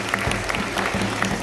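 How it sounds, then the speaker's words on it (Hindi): A crowd at an official ceremony in Pakistan applauds the district administration with brief, steady clapping and a few louder individual claps standing out. "इंतज़ामिया के लिए एक भरपूर तालियां हो जाए"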